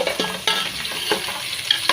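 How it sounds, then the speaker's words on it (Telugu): Ginger garlic paste frying in a pan for vegetable chicken, a close continuous sizzle with stirring scrapes and small spatter pops, no voices. "అల్లము తెల్లగడ్డ పేస్ట్ అయితే వేసేసానండి."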